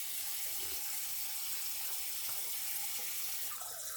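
Water runs from a tap in a steady, hissing stream, close and even in loudness throughout with no talking over it.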